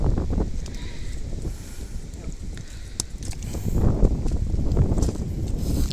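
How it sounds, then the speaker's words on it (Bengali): Sea wind buffets a boat off the Andaman Islands, gusty rushing and microphone wind noise mixed with engine and water sounds, with brief knocks and a voice faintly audible at times. "আর সাগরটার হাওয়াটা এত সুন্দর,"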